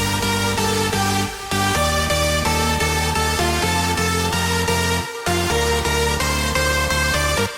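Progressive house break with a wide drone ambiance, a dense and loud synth texture of sustained chords and layered pads moving through rhythmic chord changes, with brief dips in level, playing without any voice.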